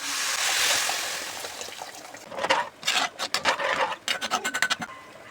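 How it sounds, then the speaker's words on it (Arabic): Hot water poured into a pot of rice for a home-cooked meal, a steady rushing pour that then breaks into bubbling, sputtering bursts near the microphone. "وبعد كده ننزل بقى بالماء السخنه."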